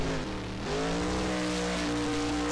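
The AMSOIL Shock Therapy monster truck in a Rigs of Rods Monster Jam freestyle run dips briefly off throttle, then its engine climbs back and holds a loud, buzzing, steady rev.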